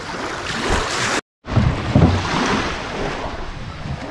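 Boat ride through strong sea waves: constant roaring wind and water wash with heavy buffeting, a brief dropout, then thumping surges as the hull meets the swell.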